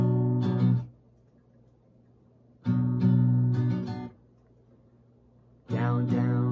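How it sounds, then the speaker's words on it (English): Acoustic guitar strums a short rhythmic pattern of downs and ups, played in three separate bursts with quiet pauses between. "down, down, down, up, down, up, down, down, down, up, down, up"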